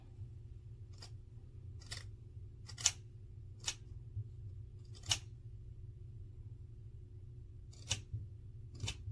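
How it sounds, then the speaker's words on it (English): Fabric scissors snipping through a hair weave, a series of sharp isolated crisp cuts spaced irregularly, close and quiet over a low steady background hum. "these right here are fabric scissors"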